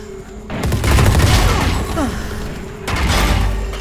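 Gunfire rattles in Valorant: a fast burst of shots running for about two seconds, a short pause, then another volley, loud and close, with a voice briefly in the mix.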